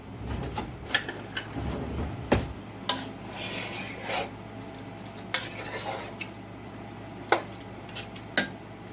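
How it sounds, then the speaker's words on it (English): Spoon stirring a large pot of vegetable soup, with scraping swirls and sharp, intermittent clinks against the pot, close and fairly quiet, no talking. "I'm going to give this a stir."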